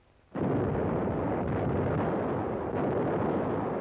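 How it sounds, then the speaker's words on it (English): Long-range artillery shelling of Leningrad in wartime, a sudden heavy blast followed by a dense, continuous rumbling roar of explosions, loud and sustained, with no speech. "For days, long-range guns hurled ton after ton of high explosives into the heart of the city."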